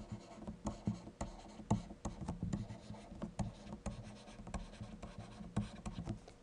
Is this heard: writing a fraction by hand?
yes